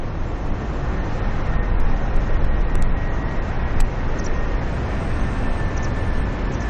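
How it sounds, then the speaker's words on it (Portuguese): A passenger airplane passes overhead near Lisbon, a steady broadband roar that holds at a constant level throughout, with a faint high whine above it and no talk. "Já se sente o barulho do avião."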